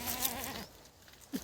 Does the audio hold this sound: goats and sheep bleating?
yes